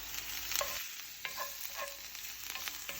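Red shallots and dried mushrooms fry in a pan with a steady sizzle, broken by several short scrapes and stirring clatters. The sound is close and continuous, and no one speaks.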